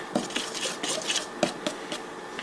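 Red velvet cake batter is stirred in a bowl, giving soft repeated scraping and clinking of the utensil against the bowl in an uneven rhythm, close and fairly quiet.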